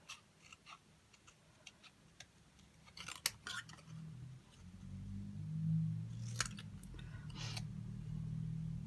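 Scissors cut through paper card for a handmade craft card, a scatter of crisp snips and ticks at first, then a louder run of close cutting over a low rustling rumble.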